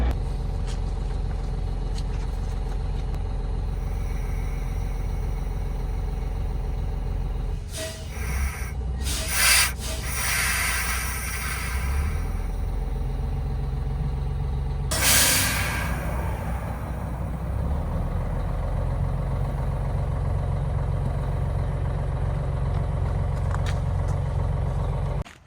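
A truck idles and rolls slowly while backing up toward a highway, a steady low engine rumble throughout with a couple of louder bursts of air or rubbing noise partway through.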